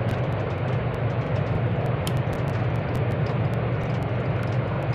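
Thai Airways Airbus A330-300 in a flight simulator game, taxiing to the gate: a steady, loud engine hum and broadband roar with a low drone, continuous throughout and free of speech.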